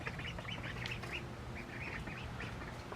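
Young ducklings on a farm give rapid high peeps that break into small quacks, a busy cluster of calls repeating over three seconds, close and fairly soft.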